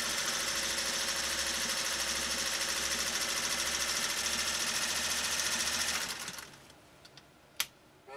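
A 1956 Singer 401A sewing machine runs at a fast, steady mechanical whir for about six seconds, then stops, leaving quiet room tone with a few light clicks and one sharp knock.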